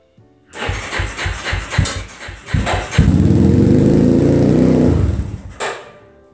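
A Yamaha Warrior 350 ATV engine cranks in a series of rapid pulses, then catches and runs with a loud, rough steady roar for about two seconds before dropping back toward idle. No one speaks.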